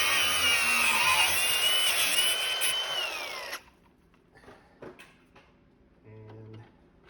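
A grinder with a cutting wheel whines loudly and steadily while slicing through a Ford Thunderbird front suspension part, its pitch sagging under load before cutting out, followed by faint clinks and workshop handling noises.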